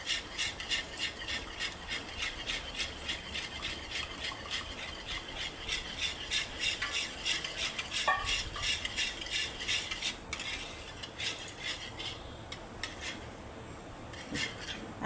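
Eggs are beaten into a milk and bread mixture in a bowl for pudding, the utensil clattering quickly and rhythmically against the bowl. The close, steady whisking runs almost the whole time, with a short pause near the end.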